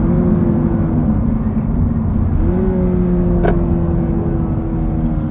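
Engine of a 2024 Subaru BRZ tS held at a steady drone through a 20 mph corner taken at 40, with a low hum and tyre roar that dips slightly, then the pitch rises as the car pulls out, constant and close.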